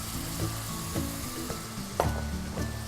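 Onions and garlic frying in butter in a pan, a steady close sizzle broken by a few sharp clicks and scrapes of stirring, with no voices.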